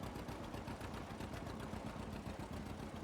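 A John Deere 7000 tractor in Farming Simulator 22 runs steadily while planting, its engine giving a dense, even chugging clatter at constant loudness with no talk over it.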